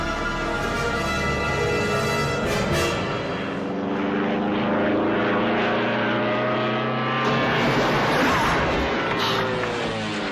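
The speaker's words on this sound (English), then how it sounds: "So they land the plane in the water" A propeller airplane engine drones loudly and steadily throughout, with a rough, churning wash suggesting the plane landing on water, a continuous near roar without pauses.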